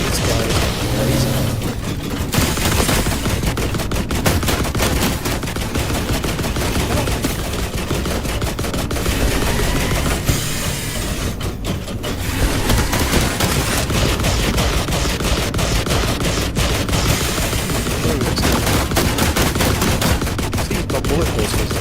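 Dense, continuous automatic machine gun fire from several weapons in a survival video game, loud and sustained throughout with rapid overlapping bursts and no pauses.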